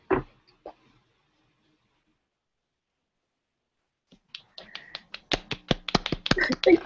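Finger snapping used as applause at a spoken-word event builds from a few scattered snaps into a quick, irregular flurry of crisp clicks from several people, with murmured voices underneath.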